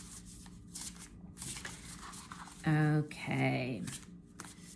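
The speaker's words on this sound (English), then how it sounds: "I will shuffle just a little bit" A deck of tarot cards is shuffled in a few quick riffling bursts, close and clear, with a person talking before and around them.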